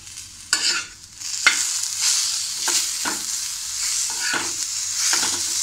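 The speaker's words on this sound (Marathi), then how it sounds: "आता त्यात आपण हा एक टॅमॅटो टाकूया आणि तोही 2 मिनटं परतून घेऊया" Tomato sautéing in a pan with roasted ginger and coconut, a soft steady sizzle broken by several scraping stirs of a spatula, close and alone with no talk.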